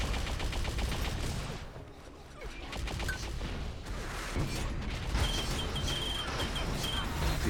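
Rapid, continuous weapon fire from a link gun in an Unreal Tournament competitive match, dense and sustained with other gunfire and game effects layered in, under faint commentary.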